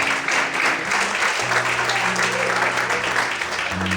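Loud, continuous applause from a church congregation in a service, dense clapping spread across the room over soft sustained music.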